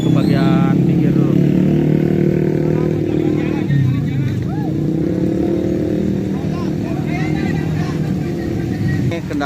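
Road traffic stuck in a long jam on Jalan Raya Narogong after a fallen tree blocked the road in a whirlwind storm, loud close engine drone and motorcycle revving with crowd chatter and voices throughout.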